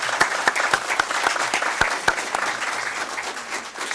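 Enthusiastic audience applause for an elementary school principal at a school district board meeting, close, dense clapping with a few distinct sharp claps standing out, continuing steadily throughout.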